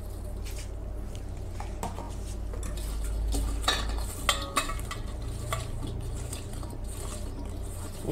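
Bitter gourd being mixed with turmeric and salt in a pot, heard as close scraping and clinking of a utensil against metal with soft squishing, under a low background hum.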